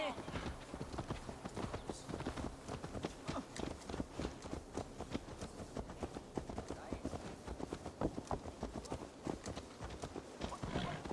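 Horse hooves clip-clop steadily in Assassin's Creed Valhalla, quick rhythmic thuds from a mount moving at pace, soft and low beneath game voices and ambience.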